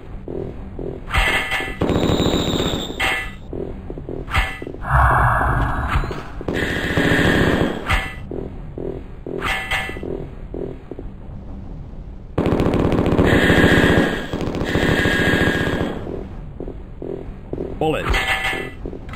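Machine gun fire in the 1995 video game Mortal Coil: Adrenalin Intelligence, loud rapid bursts broken by short gaps, repeating across the stretch.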